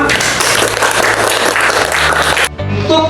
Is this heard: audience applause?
yes